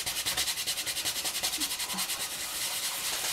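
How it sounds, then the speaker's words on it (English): Leather cream worked into a leather knife sheath by hand, a fast, even series of close rubbing strokes that keeps a steady rhythm and then smooths into a continuous swish, with no talking. "It's the heat that you build up from the friction of you rubbing the leather."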